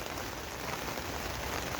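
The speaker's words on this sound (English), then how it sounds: "it's really started raining" Steady rain falls across a vegetable garden with beetroot, a dense even hiss of drops striking leaves and soil, close and constant with no voices.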